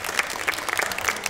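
Audience applause for a photographer at a studio show: a steady, fairly close wash of many hands clapping, with sharper individual claps standing out throughout.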